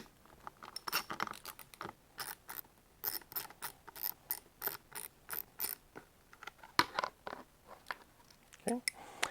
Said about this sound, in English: To take the factory deflectors off, we'll start with the front two screws here.